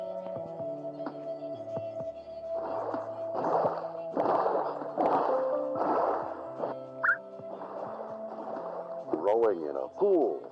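Rowing a boat with a chest through pool water in Minecraft: a string of soft rhythmic paddle splashes and plops over a background of steady game music tones, ending with a few warbling sounds.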